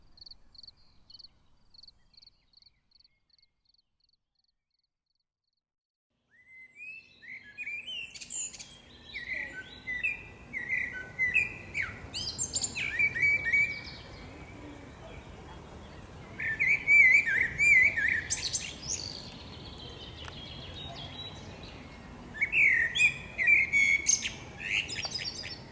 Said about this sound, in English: Now you hear the song of the blackbird.